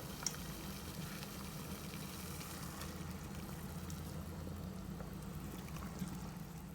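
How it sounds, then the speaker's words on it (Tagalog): A pot of water boils for blanching meat, giving a low, steady rolling bubble with faint crackles, quiet and unbroken, with nobody talking. "So, nagpakulo ako ng tubig."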